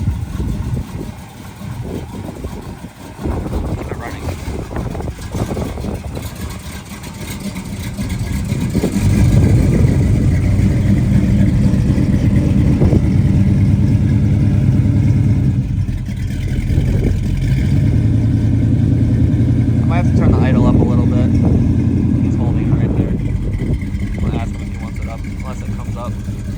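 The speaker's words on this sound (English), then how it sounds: "It seems to be idling pretty low." An upgraded Chevrolet Camaro with a carbureted engine idles low and steady outdoors in a quiet spot, a deep rumble that rises after a few seconds and holds, with people talking nearby.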